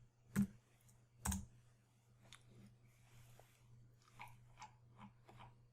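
Someone types numbers on a computer keyboard in a quiet room, with two sharp, distinct key clicks followed by a few softer, scattered taps over a low steady hum.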